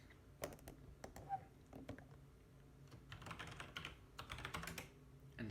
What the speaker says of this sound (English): Let's type in shitty tripod as per